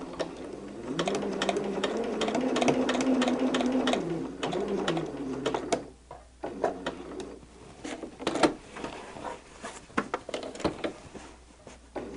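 Sewing machine stitching stained glass leading, whirring in a steady run for several seconds and then dropping into short, clicking bursts of stitches, fairly quiet and close.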